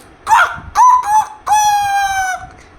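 A rooster's crow played aloud to wake people: one loud, close call with short rising opening notes leading into a long sustained final note, alone without talk.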